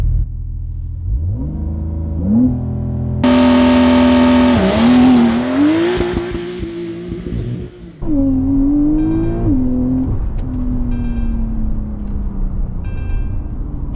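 A Porsche 911 (992) launches hard from a standstill with all driver aids switched off, its engine revving up loudly through rising sweeps and several gear changes, heard from inside the car.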